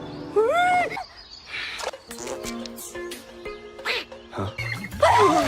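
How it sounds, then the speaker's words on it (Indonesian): A duck quacks in short, loud, close bursts at the start and end, set among sound effects of an animated Chinese fantasy story by a river. "Tiba-tiba seekor bebek mengejutkannya."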